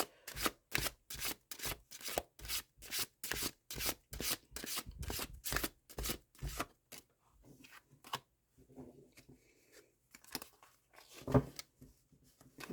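A tarot deck is riffled and shuffled in a quick regular series of rasping bursts for about seven seconds, followed by softer scattered card handling and rubs, close up with no talk.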